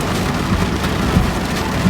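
Heavy rain hisses steadily and loudly, as dense and constant as a downpour on a surface, with a few faint low thumps and no talking.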